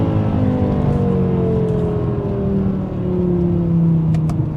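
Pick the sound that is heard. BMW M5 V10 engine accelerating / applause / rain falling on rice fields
BMW M5 V10 engine accelerating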